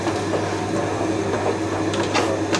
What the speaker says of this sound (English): Don't worry about the old tumble dryer making that noise in the background.